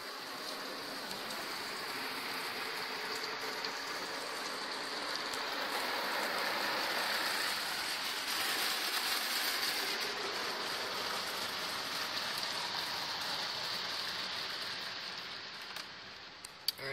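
Spot-free rinse water spraying over a car inside an automatic car wash, a steady hissing wash of spray that swells slightly in the middle, fairly soft and continuous throughout.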